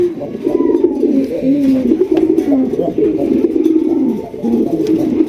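A rare-breed pigeon coos steadily and loudly up close, its deep rolling calls repeating in waves over about five seconds with faint voices nearby.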